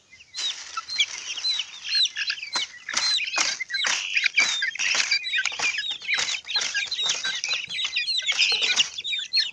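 Young chicks gather at a homemade automatic feeder, chirping and peeping busily and continuously as a close, lively flock with no talking.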